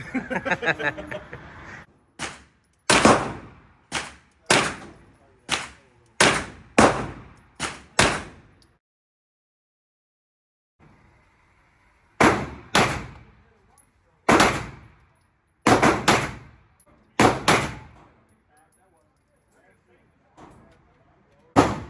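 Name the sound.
compact pistol gunshots at a shooting range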